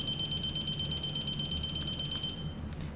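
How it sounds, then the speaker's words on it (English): Rapid electronic beeps from a Thuraya IP satellite terminal signal-strength indicator repeat steadily at a high pitch, close and clear over a low background hum, then stop near the end. "As the beeps become closer together, as you move your Thuraya IP, it indicates the strongest signal."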